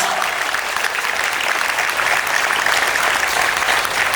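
Audience at an inter-school sports tournament's silver jubilee celebration applauds loudly and steadily, a dense wash of clapping with no pause.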